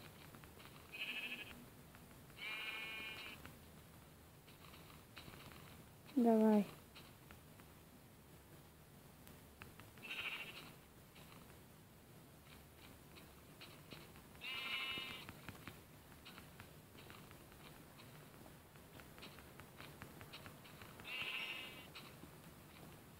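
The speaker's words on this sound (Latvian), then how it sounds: "Un šeit ir vesels 2 aitiņas." Sheep in the video game Minecraft bleat several times, short, fairly quiet calls spaced a few seconds apart over a low background hum, with one brief spoken word among them.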